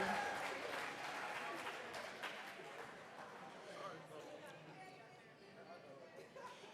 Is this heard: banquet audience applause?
yes